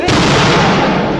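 A loud, close burst of a firework rocket at a village youth fiesta in Aldea Acal, with a sharp onset and a long rumbling decay.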